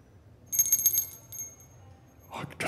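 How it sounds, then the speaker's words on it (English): A small bell rung to signal a presenter's time is up at a planetarium conference session, a quick burst of bright rings followed by a faint voice starting to speak. "I just got the bell."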